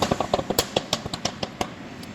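A vehicle's rough exhaust sputters close by, a quick uneven series of popping, rattling bursts about two seconds long.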